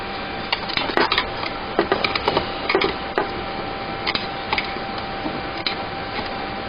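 Screwdriver tightening a screw on a homemade window-fan thermostat, a series of small close ticks and creaks at an uneven rhythm over low background hiss.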